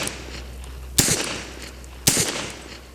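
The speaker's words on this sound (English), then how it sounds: "Shoot right underneath the target in the soft dirt, and they tend to fly up." A Beretta M-96D pistol is fired at an outdoor shooting range, two sharp loud shots about a second apart, each followed by a short fading echo over quiet background, with no talk.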